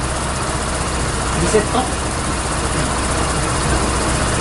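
A KYMCO GP125 scooter engine idles during a pre-delivery service in the workshop, a steady low hum running throughout, while someone speaks briefly over it.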